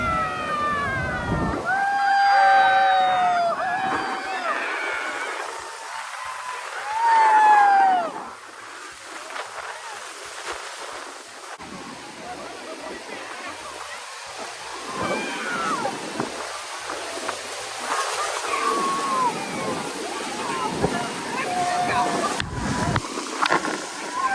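Heavy water spray from Niagara's Horseshoe Falls pelts a camera on a tour boat, a dense hissing wash with thumping gusts of wind and mist, while someone speaks throughout and other passengers shout and cheer nearby.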